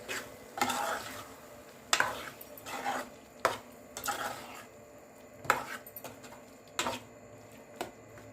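Masala paste being stirred into drumstick curry in a pan, with repeated scraping and clinking strokes of a spoon against the pan at an irregular rhythm, close and moderately loud with no talk.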